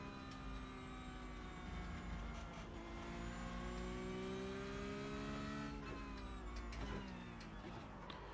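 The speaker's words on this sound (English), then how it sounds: "The Cup car does make amazing noises towards the rev limit" A Cup race car engine screaming toward its rev limit, a loud sustained rasp whose pitch climbs steadily with harmonic whine, dropping briefly near six seconds on a shift before rising again, with no talk over it.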